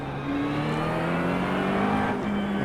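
A McLaren 720S GT3 race car engine in iRacing holds a loud, steady high-revving drone with layered harmonics and a slight pitch rise, close and continuous throughout.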